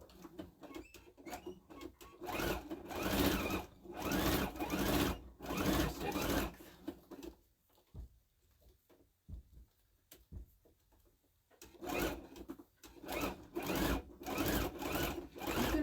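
A sewing machine stitching fabric for a drawstring bag runs in loud, steady bursts, pauses briefly to near quiet for a few seconds, then starts up again and keeps running to the end.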